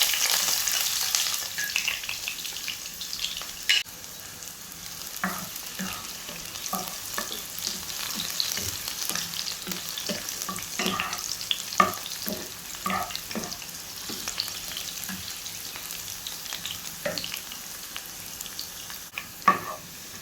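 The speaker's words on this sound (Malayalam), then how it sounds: "ആദ്യം ഈ കൊക്കനട്ട് ഓയിലിട്ട് നമുക്കിത് ഫ്രൈ ചെയ്തെടുക്കാം കേട്ടോ" Finely chopped small shallots fry in coconut oil for a fish curry, a soft steady sizzle with scattered spoon clicks and stirring, fairly faint and close with no voices.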